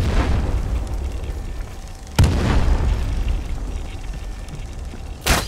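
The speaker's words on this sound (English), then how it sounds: "Putting grenades on him." Grenade blasts in the shooter game Delta Force, two sudden heavy booms a few seconds apart over a rumbling low battle ambience, loud and close.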